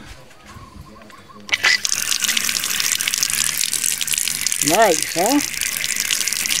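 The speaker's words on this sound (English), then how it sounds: "This is my latest sink, water tank, 100 gallons," Water gushes steadily from a hose into a sink fed by a 100-gallon water tank, starting abruptly and running loud and close, with someone talking briefly over the flow.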